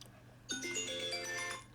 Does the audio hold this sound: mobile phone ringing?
yes